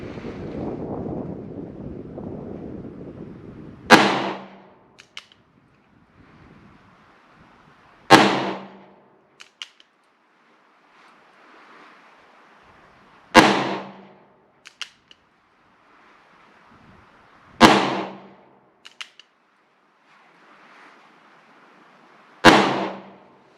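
Five sharp gunshots crack from a .45 Schofield revolver loaded with RCBS-cast bullets, spaced about four to five seconds apart. Each report is loud and close with a brief echo, and light wind noise fills the gaps between shots.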